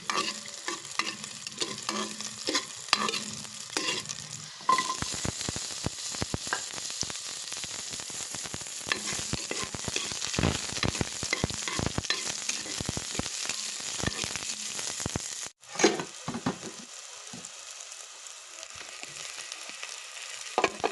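Garlic sautéing in a hot pan with a dense, steady sizzle and crackle, broken by frequent scraping stirs, continuing nearly unbroken for a long stretch with a brief drop near the end.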